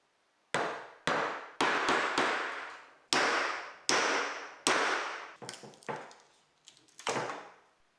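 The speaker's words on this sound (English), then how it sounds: "A few hard raps with the hammer is enough to break up the hide glue in these joints" A hammer raps hard on hide-glued joints of a 1930s wooden rocking chair about a dozen times, sharp close knocks with short ringing decays, the later blows quicker and lighter.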